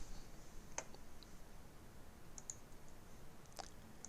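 A few sharp, quiet clicks spaced apart over a steady low background hiss, a computer mouse's left button pressed while holding Shift in design software.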